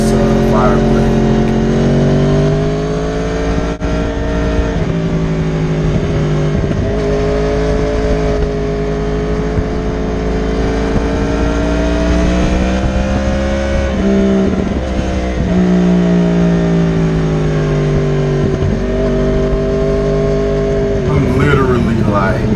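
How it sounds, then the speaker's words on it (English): A Honda Fireblade fitted with a Yoshimura exhaust runs on a race track, its engine note held loud and steady for the whole stretch with gentle rises and dips in pitch as the revs shift. "like how that Yoshimura sounds on this fire blade"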